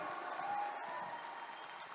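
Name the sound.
audience applause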